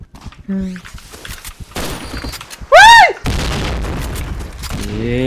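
In the shooter game Point Blank, a grenade blast and bursts of gunfire crack loudly, mixed with sharp synthetic effect tones and a sustained rumble, while a player talks over the action.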